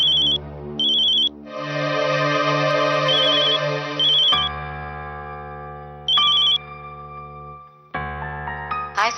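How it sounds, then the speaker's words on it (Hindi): Telephone ringing late at night, an electronic ringtone playing in repeated bursts and musical phrases, loud and close with no talking. "Hi Sanjay, I am sorry मैंने इतनी रात को तुम्हें फोन किया।"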